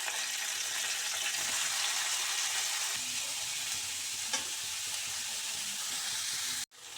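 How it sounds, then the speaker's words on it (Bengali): Potatoes, egg, carrot, onion and garlic sizzle loudly in a hot pan for chicken chow mein, a steady frying hiss with occasional scrapes of stirring, ending in a sudden knock. "সবজিগুলো প্রায় ভাজা হয়ে গেছে"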